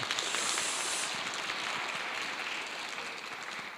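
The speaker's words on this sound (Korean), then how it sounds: "여러분들 좀 박수 한번 해주시면 고맙겠습니다." A church congregation applauds together in a steady, dense patter that gradually softens over a few seconds, with no voices over it.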